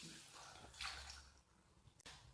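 Water is poured from a cup into a pot of Karela Gosht, a bitter gourd and meat curry already seasoned with cumin seeds, Kashmiri chili powder and salt, giving a soft splashing pour that fades, then a brief clink near the end.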